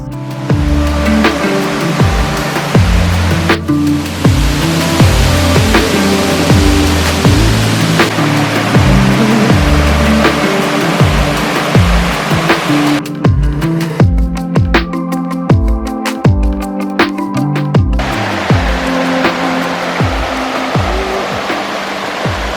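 A steady, loud rush of water from a waterfall along a mountain foothills hiking trail, continuous throughout with scattered knocks and rustles of hikers close by, no voices.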